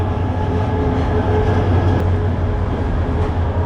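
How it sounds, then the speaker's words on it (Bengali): The Meghna Express from Chandpur pulls in on the adjacent track beside a waiting intercity train, a loud, steady rolling rumble of wheels and carriages that stays close throughout. "চাঁদপুর থেকে এই ট্রেনটি আসলো মেঘনা এক্সপ্রেস"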